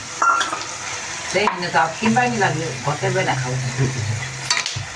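Homemade phuchka puff as they fry slowly in hot oil over a lowered flame, a steady sizzle running throughout with a voice talking over part of it.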